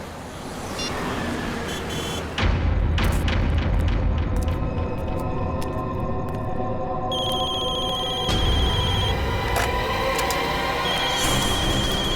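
A telephone rings repeatedly in a tense crime-drama scene, its bell-like tones sounding again and again over loud, booming dramatic music and rumbling background.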